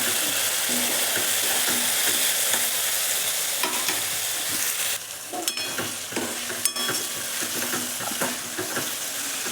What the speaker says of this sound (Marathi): सर्व व्यवस्थित परतून घेऊ